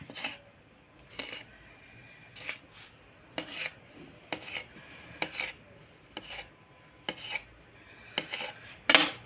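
A knife cutting through stacked layers of baklava pastry dough, about ten short crisp rasping strokes in an even rhythm, close and clear with no talking.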